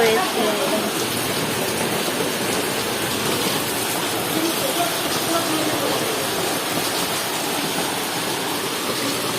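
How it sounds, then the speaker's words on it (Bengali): Heavy rain pours down at night at a home during Kali Puja, a dense, unbroken hiss and roar of water on surfaces that stays loud and steady throughout. "দেখো কি বৃষ্টি শুরু হয়েছে"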